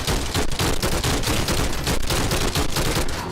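Gunfire in a VR shooting video game, a loud continuous rapid rattle of shots throughout with no pause.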